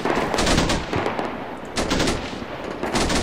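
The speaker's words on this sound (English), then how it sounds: "I think the machine gunners have done their job." Sustained machine gun fire during urban combat in the video game Combat Mission Shock Force: loud, dense overlapping bursts rattle on continuously, with a brief dip before they pick up again.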